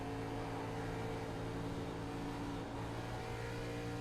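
A race car engine drones steadily at high revs, distant and fairly faint, with a slight dip and recovery near the end.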